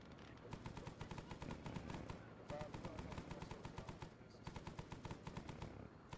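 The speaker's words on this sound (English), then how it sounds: "Gunfire." Sustained machine gun fire in the military shooter game Arma 3, rapid rhythmic bursts rattling on almost continuously with brief pauses, loud and close.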